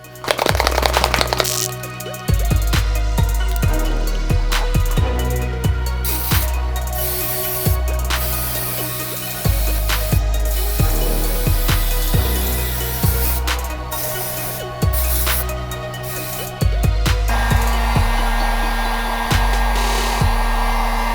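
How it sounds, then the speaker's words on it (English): An airbrush sprays black paint onto a custom Adidas NMD sneaker in repeated hissing bursts with short pauses between them, heard over background music. "So now let's move on to laying down the black through the airbrush."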